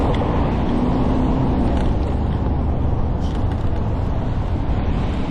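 Steady road traffic rumbles beside a park path at Karkarook Park in Melbourne, a continuous broad wash of passing cars with no pauses and no voices.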